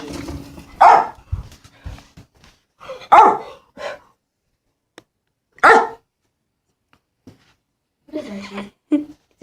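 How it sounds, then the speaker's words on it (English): A dog barks in several sharp, separate bursts spread over about nine seconds, fairly close and loud, with quiet gaps and a few softer yips between them. "He's barking at you over there."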